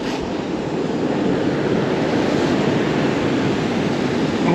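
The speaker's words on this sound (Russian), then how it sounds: "Вот такое вот море." Stormy sea waves crash and wash onto a Black Sea beach at Lazarevskoye, a loud continuous roaring surf mixed with wind buffeting the microphone, with no speech.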